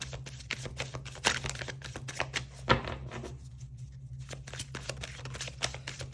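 Tarot cards are drawn one after another from a deck, giving a string of dry papery snaps and slides over a steady low hum, with one sharper flick standing out midway.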